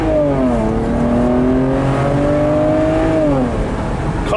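A 2007 BMW 335i convertible accelerates hard, its engine revving up loudly and steadily through a gear, briefly dropping at a shift and climbing again, heard close and continuous over road and wind noise.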